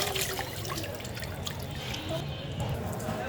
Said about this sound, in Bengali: এই যে মাংসগুলো ধুয়ে নিচ্ছি ভালো করে।